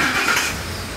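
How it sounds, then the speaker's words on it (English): A Ford F-150 engine cranks and catches on an Excalibur 1670 remote start, a loud, close burst of starter whir that rises into a running idle over about a second. "You're going to press this twice. That will crank the car right up."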